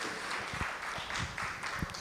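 A church congregation claps in applause, with a steady, even patter of many hands that stays fairly faint and distant, as if heard from the back of the room.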